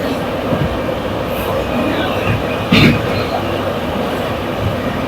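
A crowded passenger train runs on a Mysore-bound trip, a loud continuous rumble and rattle of the carriages with a brief louder surge partway through, heard from inside without speech.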